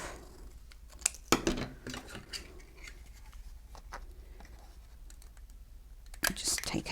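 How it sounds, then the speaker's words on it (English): A few crisp scissor snips through paper near 1.3 seconds, followed by quiet rustling and a second burst of cutting or crinkling near the end. "So my scissors, I'm going to cut that bit off."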